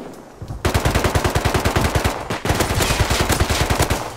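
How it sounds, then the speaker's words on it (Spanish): Rapid video-game gunfire during a multiplayer raid on a crowded server: dense automatic bursts of shots, loud and close, in two long strings separated by a brief gap, with no talking. "¿Quién es el otro que está disparando?"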